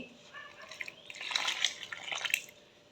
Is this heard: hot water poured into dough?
yes